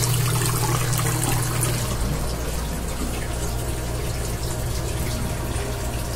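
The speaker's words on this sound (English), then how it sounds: "When I run water down my bathroom sink" Water running down a bathroom sink drain in a house with a frozen sewer line, a loud steady rush and gurgle filling the whole stretch, with a low hum early on and no talking.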